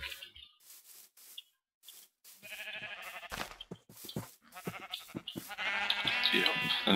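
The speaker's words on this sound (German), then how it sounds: "Ja, den Schafen geht's auch gut." Sheep in the Minecraft video game bleat repeatedly, loud and close, in several short bursts with brief gaps between them, over light background game sounds.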